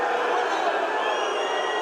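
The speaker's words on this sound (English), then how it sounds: "Crowd's not liking that." Arena crowd at an MMA fight reacting with displeasure after an apparent eye poke: a steady, dense roar of murmuring and jeering voices, loud and continuous throughout, with no single voice standing out.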